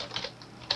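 Soft, quick keystrokes on a computer keyboard tap out a short burst of typing at close range, with no speech.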